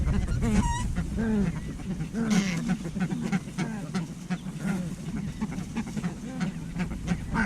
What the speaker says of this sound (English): Ducks can't get in them for these white birds.